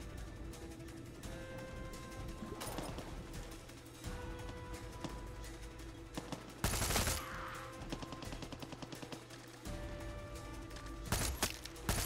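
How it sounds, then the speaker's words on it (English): Gunfire in the video game Far Cry 6, rapid machine-gun bursts and scattered single shots over a droning game soundscape, with a loud heavy blast in the middle and sharp cracks toward the end. "he's shooting at the alligator"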